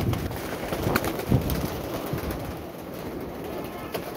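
Pigeons coo and stir as they are released into the sky from a rooftop, soft repeated low calls over a steady outdoor background.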